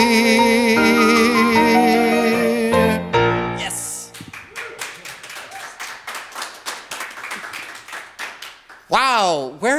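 Music fades out, then a small live concert audience at a holiday show claps unevenly for several seconds before a brief swooping voice-like sound cuts in.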